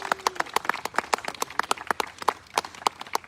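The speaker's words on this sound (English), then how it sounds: "let's give Shelley a huge round of applause for her 3 years as Temple President" Scattered hand claps ring out in an uneven, moderately paced patter, a small group applauding indoors at a synagogue Shabbat service.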